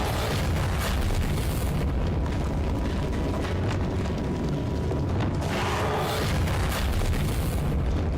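A fire spell cast in Hogwarts Legacy inside a tomb, heavy booming bursts and whooshing blasts that fill the space loudly and continuously, with a couple of sharper surges partway through.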